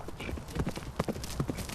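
Hooves of a charging knight's horse pound in a quick, uneven rhythm of heavy thuds, close and loud, over a few seconds of clip-clop.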